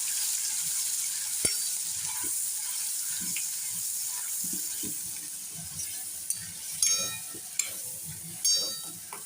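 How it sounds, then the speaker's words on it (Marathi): Ready-made ginger garlic paste and a ground spice paste sauté in a pan for paneer matar. A soft, steady sizzle is broken by scattered clicks and scrapes of stirring near the end. "ते वाटण घालून घेऊया. ते छान परतून घेऊया."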